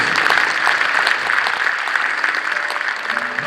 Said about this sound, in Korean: 박수 한번 쳐드리겠습니다